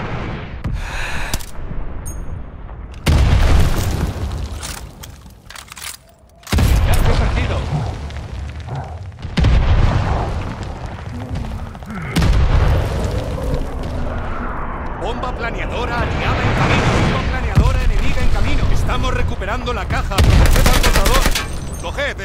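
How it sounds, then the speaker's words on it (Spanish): Heavy glide bomb explosions and bursts of gunfire in the shooter Call of Duty: Vanguard, with loud booms recurring every few seconds over continuous battle noise. "¡Bomba planeadora enemiga en camino! ¡Mandando una bomba planeadora!"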